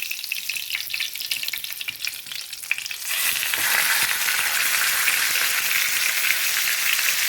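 Marinated fish goes into hot oil with curry leaves in a pan, and a light crackle rises into a loud, steady, hissing sizzle that continues alone with no talking.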